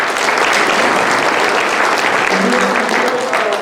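Loud, steady applause from a Christmas concert audience, dense clapping sustained evenly for a few seconds before easing slightly at the end.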